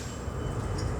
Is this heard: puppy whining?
no